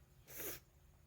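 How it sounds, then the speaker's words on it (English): A single short sneeze, fairly faint, bursting out once over a quiet low hum. "I can't stop sneezing."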